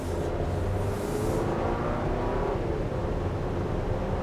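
A 2024 Chevrolet Traverse LT accelerates to merge into traffic, its engine and road noise forming a steady, loud, broadband rumble heard from inside the cabin with no talking.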